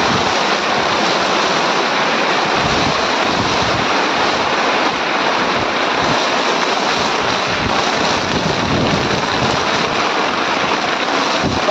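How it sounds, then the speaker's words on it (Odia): Heavy rain and wind roar without a break through a storm in a village. The sound is a loud, dense, unbroken rush with no voices. "ଆଉ ଭୟଙ୍କର ବର୍ଷା"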